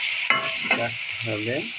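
Chopped onions and chilies fry with cumin and coriander powder in a pan, a dense steady sizzle under brief speech.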